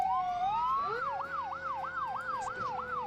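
A fire engine siren in the video game Emergency 4 opens with a rising wail, then switches to a fast, steady yelp that repeats about eight times. It is loud and close over a low background rumble, with no talking.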